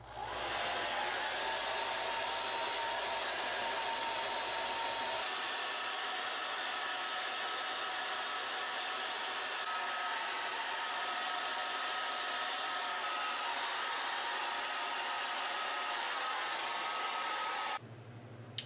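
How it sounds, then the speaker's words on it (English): A hair dryer blows steadily at close range while hair is blow-dried section by section, a constant loud whoosh that cuts out near the end. "I'll kind of start with one side and blow dry it like this way, and then blow dry this side like this way"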